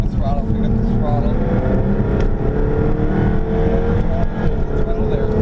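A 2015 Jaguar F-Type R Coupe accelerates on a race track, its engine droning steadily and rising in pitch as the throttle opens. Tire and wind noise run underneath, and a driver and instructor talk over the engine throughout.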